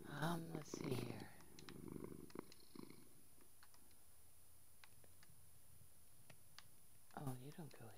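A cat in the Minecraft video game purrs, a soft, continuous low rumble through most of the stretch, with scattered light clicks and a voice briefly heard near the start and end.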